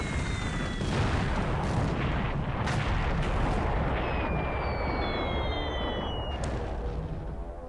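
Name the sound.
bombs exploding on battleships in War in the Pacific video game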